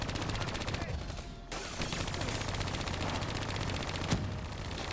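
Rapid machine gun fire in Call of Duty Black Ops 3, dense repeated bursts with a short pause and one sharp louder shot, under game noise and faint talk.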